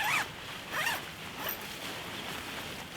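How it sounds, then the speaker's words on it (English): Zipper on a Snugpak Special Forces sleeping bag being pulled in a few quick rasping strokes, close and fairly quiet, with no talk over it. "zip it down,"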